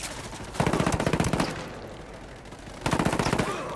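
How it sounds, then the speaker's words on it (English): Submachine gun fire in the Ghost Recon Wildlands video game: two sustained automatic bursts, close and loud, the first about a second long and the second starting near the end, with a quieter pause between them. "Target carrying submachine guns."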